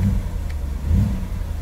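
A BMW engine being revved with the throttle during a VANOS and timing chain diagnostic check, producing a low engine drone that swells briefly in a single short rev.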